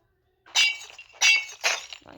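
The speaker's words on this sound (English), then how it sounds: "Also resulting in all glass breaking." Glass breaks and shatters in three sharp crashing bursts with tinkling fragments, close and fairly loud against silence.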